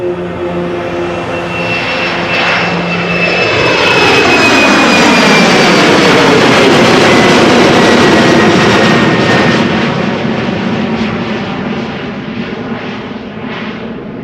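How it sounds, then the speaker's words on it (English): An Embraer airliner takes off from runway 36L at Amsterdam Schiphol in showery weather, its jet engines swelling into a loud, steady roar with a falling whine, peaking midway and then slowly easing as it climbs away. "the Embraer is also beginning its takeoff."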